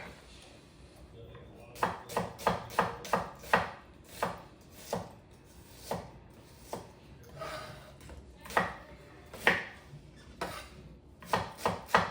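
Onion being chopped on a board for sautéing, a run of sharp, close knife strikes in quick bursts with pauses between, alone with no talk.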